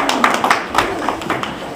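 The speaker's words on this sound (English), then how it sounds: "Give him a round of applause." Audience at a children's magic show applauds a young volunteer, a thin scattering of claps at close-to-moderate range with uneven rhythm over roughly two seconds.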